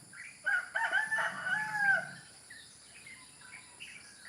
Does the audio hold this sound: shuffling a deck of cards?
no